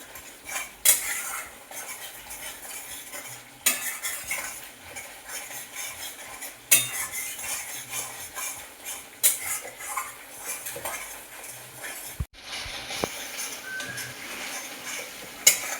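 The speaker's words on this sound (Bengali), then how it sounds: "মিডিয়াম আঁচে কষানো হবে মশলা যত কষবে যত কষানো ভালো হবে টেস্ট তত ভালো হবে" Spices being fried and stirred over medium heat for a chicken leg roast, heard as a continuous sizzle under repeated scraping and clinking of a utensil against the pan, with a few sharper knocks.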